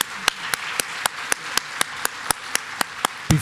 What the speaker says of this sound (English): I'd ask that everybody give them a round of applause